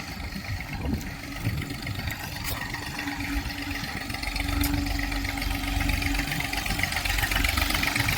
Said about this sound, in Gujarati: તો મિત્રો આ આવે છે આપણું મેસી ટ્રેક્ટર